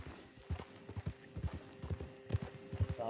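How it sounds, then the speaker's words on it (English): Horse hooves clip-clop in a steady trotting rhythm in Red Dead Redemption 2, close and clear, with no talk over them. "why won't this horse stop?"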